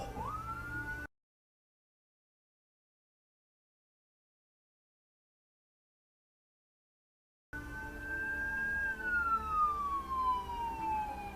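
Ambulance siren wailing in road traffic during a crash, heard loud and close at the start, then breaking off and returning with a rising and falling tone that sweeps downward, over steady traffic rumble.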